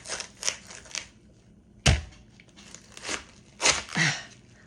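A knife slices through a small cabbage in a few crisp, crunchy cuts and crackles, close up and fairly quiet, with no talking.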